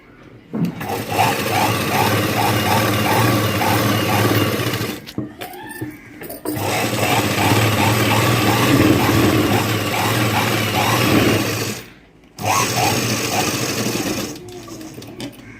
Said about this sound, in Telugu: ఇలా పైనుంచి కూడా ఒక స్టిచ్ వేసుకోండి